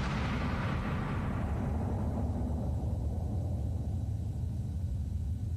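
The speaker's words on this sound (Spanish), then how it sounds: "Una explosión increíblemente atronadora" A black-powder musket firing with a thunderous roar, a broad rumbling blast that sustains loudly through the clip as its bright crack fades into a deep low boom.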